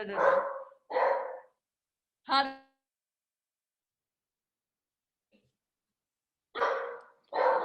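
A small dog barks at the mail carrier in a home: a tight pair of sharp barks, then one lone yelp, a pause and two more barks, all close and loud with no talk over them.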